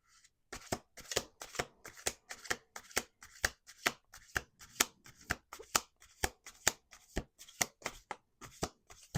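A deck of tarot cards is shuffled again and again at close range, making a steady run of about two dozen sharp riffling snaps evenly spaced, each one brief and crisp against silence.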